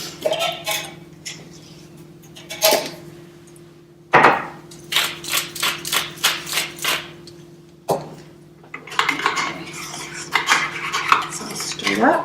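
Utensil scrapes and clinks against a bowl as broccoli pasta salad is stirred with dressing, arriving in short bursts of rhythmic stirring separated by brief pauses, close and fairly loud with no talking.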